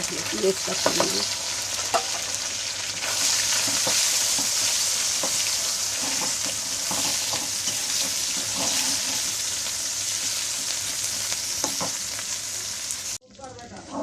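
Onions frying in a pan for eggplant bhaji, a steady close sizzle with occasional stirring knocks and scrapes, cutting out abruptly near the end.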